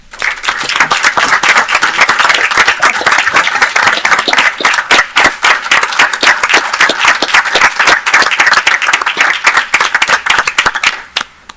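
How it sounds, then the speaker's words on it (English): An audience at a city commissioners meeting in Muskegon gives the mayor a loud, sustained round of applause, with dense clapping that carries on for over ten seconds before ending abruptly. "please join me in thanking the mayor with a warm round of applause"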